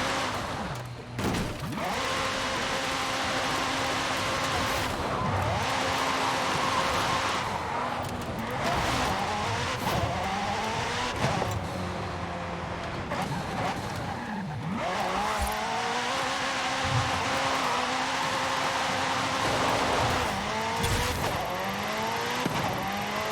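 A car in Forza Horizon 5, a Toyota Supra, skids and fishtails with repeated tire squeals over a steady engine drone, the screeches rising and falling in sweeping bursts throughout.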